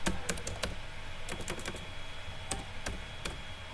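Quick bursts of keystrokes on a computer keyboard while HTML code is typed, crisp close clicks in uneven clusters separated by short pauses, with no one speaking.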